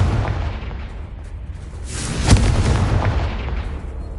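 A Confringo blasting spell in Hogwarts Legacy detonates as one sharp, loud explosive boom midway, trailing into a rumbling, noisy decay over continuous game background din.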